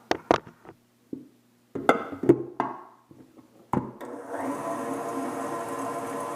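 An electric mixer whips meringue cookie batter for butterscotch meringue cookies, starting with a few scattered clicks and knocks, then settling into a steady, close whirring hum.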